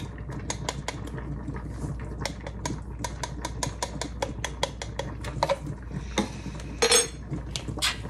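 Lasagna filling of cheese and parsley flakes stirred in a bowl, a rapid series of close spoon clinks and taps against the bowl with a faint hum underneath.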